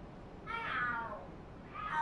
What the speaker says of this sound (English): Oh, are there cats fighting? What are they screaming for?